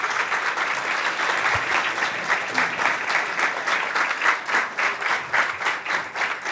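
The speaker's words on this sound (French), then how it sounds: "On applaudit Debo." A studio audience breaks into sustained, dense applause to welcome a guest, a cook and poet, onto the stage of a talk show about cooking and prejudice; the clapping is steady and fairly loud throughout.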